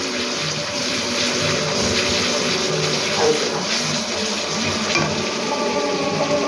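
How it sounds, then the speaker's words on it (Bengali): Chopped garlic frying in a pan as the base for mutton kosha, a steady loud sizzling hiss that holds evenly throughout with no pauses. "রসুনটা দিয়ে ভাজবো, রসুনটা ভালো করে ভেজে নেবো"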